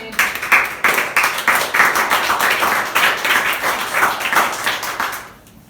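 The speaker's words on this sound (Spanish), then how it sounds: "Aleluya, denle un aplauso." A church congregation claps in a steady, rhythmic beat, the applause dense and close for several seconds before fading out at the end.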